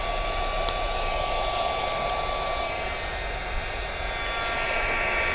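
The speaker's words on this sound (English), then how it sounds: "you're going to need a heat gun. You're going to let that heat up." A heat gun warms up for paper crafting with a loud, steady, continuous blowing roar that stays unchanged throughout.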